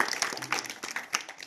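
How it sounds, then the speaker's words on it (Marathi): Children clapping in a Marathi number lesson, heard as a brief spatter of quick, light claps at moderate distance, fading toward the end without speech over it. "सोहमला टाळ्या वाजवा रे."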